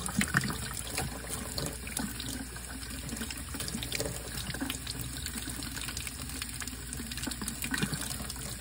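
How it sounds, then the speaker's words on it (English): Tap water runs steadily over a hydroponic air stone being rinsed in a sink, a continuous close splashing and trickling stream with no voices. "I always just run water,"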